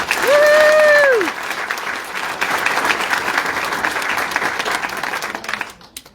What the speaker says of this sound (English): Let's give our 3rd place 3A cheerleading team a big round of applause.